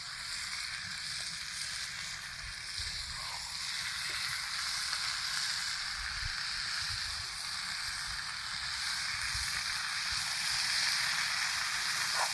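Banana stem (kol posola) sizzles in a pan with chicken, a steady, dense frying hiss that grows slightly louder toward the end, with occasional soft pops and stirring clatters and no talking.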